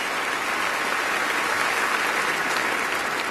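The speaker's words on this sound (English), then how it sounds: "Can we please give Mr. Mark Martin some applause?" Steady, dense audience applause fills a large hall at a 2013 awards ceremony, honoring NASCAR driver Mark Martin, loud and unbroken throughout with no voices standing out.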